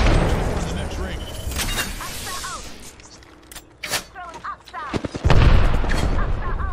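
A grenade goes off with a heavy, booming blast near the end, in the video game Apex Legends, preceded by scattered gunfire and a player talking.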